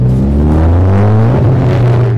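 Ford Focus ST engine pulling hard under acceleration, a loud steady drone with engine harmonics climbing in pitch over about two seconds, heard close from inside the front-wheel-drive hatchback.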